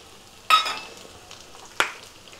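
Green chili and ginger drop into hot oil for a tempering, giving two sharp sizzling bursts about a second apart, each crackling loudly and then fading.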